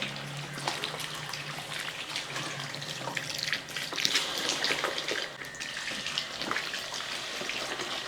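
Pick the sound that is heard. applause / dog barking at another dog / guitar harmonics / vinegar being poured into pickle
vinegar being poured into pickle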